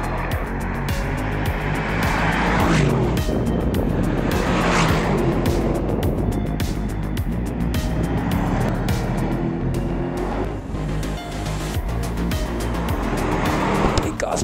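A luxury car is driven hard on a race circuit, with a steady loud engine drone, shifting revs and tyre noise running throughout.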